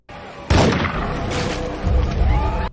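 A loud booming gunshot bursts in suddenly, followed by sustained rumbling, crashing noise and a second heavy blast, dense and dramatic like a film soundtrack.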